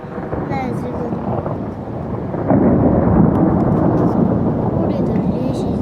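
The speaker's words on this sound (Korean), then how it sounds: "천둥번개가 치고 지금 비가 오네요." Thunder rumbles through a rainstorm, a continuous low roll that grows louder and heavier halfway through, with rain noise and a voice speaking faintly under it.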